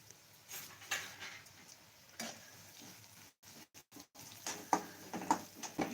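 Moth bean dal, turmeric and reddened garlic sizzle faintly in a tempering, with soft crackles and a few light stirring clicks at a modest level and no talk.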